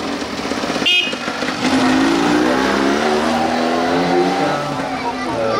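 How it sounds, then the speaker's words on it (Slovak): A vintage Aero bus engine cranks after a sharp click, then catches and settles into a loud, rough idle with a rising revving tone, heard up close with voices talking nearby. "Nech sa páči, môžeme štartovať autobus Aero."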